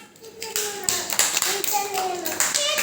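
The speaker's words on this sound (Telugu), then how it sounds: "very good claps" A small group of Anganwadi preschool children claps in a quick burst of applause, close by, with voices speaking over the clapping.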